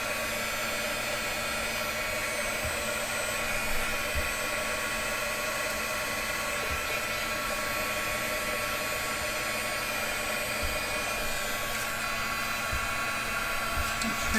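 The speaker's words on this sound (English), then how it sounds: "I will hit it with a heat gun real quick to just dry" Heat gun blowing hot air to dry a paper craft piece, a steady, even roar of rushing air held for the whole stretch with no breaks and at moderate loudness.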